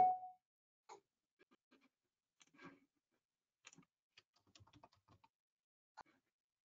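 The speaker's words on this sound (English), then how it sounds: "See furious computer typing." Rapid computer keyboard typing during a cemetery commission meeting, scattered bursts of clicky keystrokes in an otherwise quiet room, fairly close and faint.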